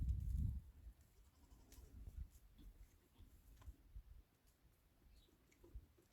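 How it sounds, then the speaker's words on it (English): Goats in a homestead barn where kids are due, with faint, scattered bleats over a quiet, low barn hum and occasional small knocks and rustles. "So here we have 9 more goats to kid right now."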